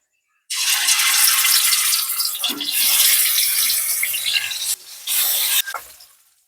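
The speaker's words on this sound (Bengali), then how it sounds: "তেল গরম হয়ে গেছে, এবারে মাছগুলো আমি দিয়ে ভেজে নেব" Fish pieces rubbed with salt and turmeric hit hot oil in a wok, setting off a loud, dense sizzle that starts abruptly and roars steadily, dipping briefly near the end before dying away.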